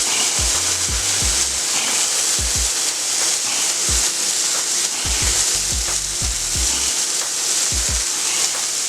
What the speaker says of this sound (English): we're going to let the burgers cook on one side, develop that crust